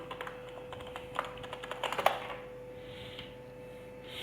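Rapid keystrokes on a computer keyboard as a command and password are entered, a run of close, light clicks with a few louder taps, fading to quiet room tone.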